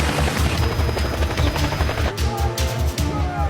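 A helicopter flies toward a target area, its rotor pounding out a fast, steady rhythmic thump with a loud, close engine roar and a brief burst of sharp noise near the end.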